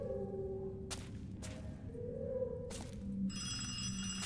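An in-game telephone rings faintly in repeated short electronic bursts separated by pauses, over a low ambient hum, ending in a brighter tonal flourish.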